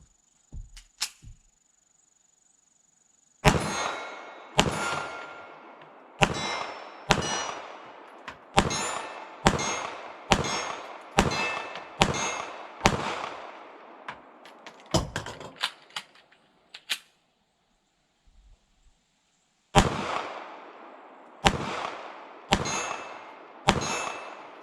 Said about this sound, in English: we're going to take some shots at this distance and see how she does